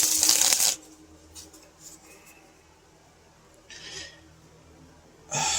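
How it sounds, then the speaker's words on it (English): Tarot cards are shuffled close up in short crisp riffling bursts at the start, middle and end, with quiet handling sounds and near-silence between. "I want to get it shuffled really,"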